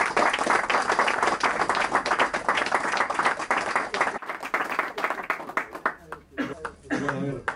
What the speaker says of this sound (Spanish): le recibimos a Paco Segarra con un aplauso.